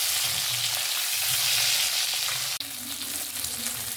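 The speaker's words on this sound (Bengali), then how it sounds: "এখানে আমি কড়াইতে তেলটা গরম করে মাছ ছেড়ে দিয়েছি।" Tilapia fish, rubbed with turmeric and salt, sizzles and fries in hot oil in a wok, giving a steady, loud, close crackle throughout with a brief dip near the end.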